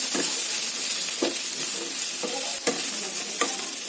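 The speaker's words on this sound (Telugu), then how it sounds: "అన్నీ కూడా ఇలా కలిపేసుకోండి ఫ్రెండ్స్." Sprouted chickpeas and chopped bottle gourd are tossed in a hot pan, a spatula scraping and stirring in regular strokes over a continuous light sizzle, close and clear with no talking.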